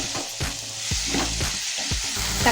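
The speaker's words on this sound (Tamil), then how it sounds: "சிக்கன் மசாலா, சிக்கன் குழம்பு மசாலா, அதை கொஞ்சம் போட்டுட்டு இது நல்லா கொஞ்சம் வதக்கிக்கலாம்" Tomatoes and chicken masala sautéing in a pan for a chicken gravy, a steady close sizzle with repeated scraping stirs of a spoon against the pan, no talking.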